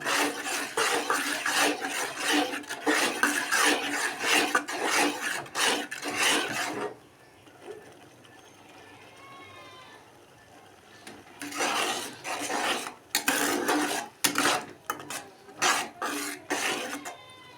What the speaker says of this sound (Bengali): পায়েসটা মাঝে মাঝে নাড়তে হবে নাহলে তলায় লেগে যাওয়ার ভয় থাকে